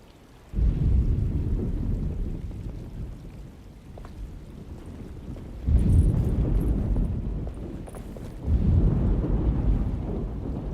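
A thunderstorm rolls through the video game Alone in the Dark, steady rain with three deep, heavy thunder rumbles rising and fading across the scene, no voices.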